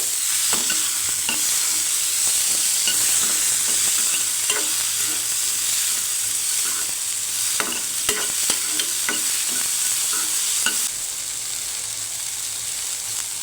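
Three green chillies stir-fried in a pan make a constant bright sizzle, broken by scraping and clacking from the stirring, close and loud with no talk.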